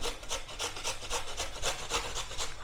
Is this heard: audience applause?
no